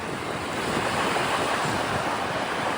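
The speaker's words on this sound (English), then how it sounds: "So this is the beach and foreshore at Surfleet campground." Steady surf washing onto the beach foreshore at Surfleet campground in Lincoln National Park, a continuous loud rush of breaking waves with wind buffeting the microphone, no voices.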